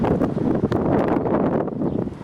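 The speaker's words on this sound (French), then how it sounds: "Tourbillon de vent." Strong gusting wind whirling during a daytime thunderstorm, a loud, steady roar of buffeting air with rustling bursts, close to the microphone and with no voices.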